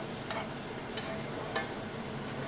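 Shrimp sizzling gently in a pan for shrimp fried rice, a soft steady fry broken by three or four light scraping stirs.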